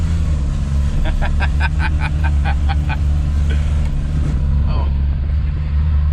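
A 1996 Suzuki Carry with an F6A engine driving in second gear gives a loud, steady low engine drone throughout, with a brief voice and some higher rattles over it.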